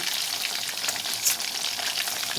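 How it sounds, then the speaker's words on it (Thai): Chicken drumsticks deep-frying in oil over medium heat make a dense, continuous crackling hiss, close and fairly loud, with small pops scattered through it. "ทอดไฟปานกลางค่ะ"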